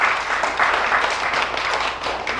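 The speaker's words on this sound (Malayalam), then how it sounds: "എല്ലാവരും നല്ലൊരു കൈയടി കൊടുത്തു." Audience clapping at the kickoff of a community convention in Tampa forms a dense, even wash of applause across the whole moment, fairly loud and without breaks.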